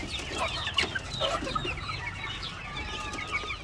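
On a poultry farm, a young rooster mixes with a batch of small chicks, whose soft, overlapping peeps and clucks chatter steadily at moderate distance.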